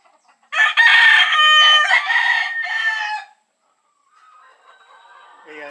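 A gamefarm rooster, a fighting-cock breed, crows loudly and close for about three seconds in a backyard pen, followed by quieter distant bird calls.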